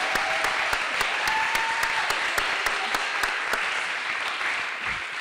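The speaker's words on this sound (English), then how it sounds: "so thank you for a big round of applause" An audience at a conference's closing discussion gives a round of applause, a dense steady wash of clapping that holds for several seconds and slowly eases toward the end.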